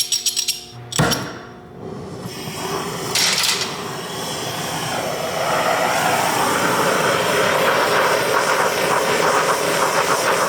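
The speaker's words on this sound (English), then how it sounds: "We're going to warm it up with the torch." A torch roars steadily while heating an aluminum lower control arm before spool-gun welding. The broad hiss swells and grows louder and fuller after a few seconds, then holds.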